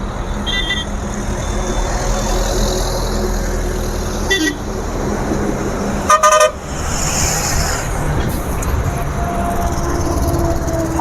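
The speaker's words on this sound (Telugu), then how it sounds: "లారీ అన్న హార్న్ అయితే కొట్టాడు." A lorry on a highway sounds its horn in a few short toots over a constant loud roar of passing traffic, nearby.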